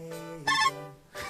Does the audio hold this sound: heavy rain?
no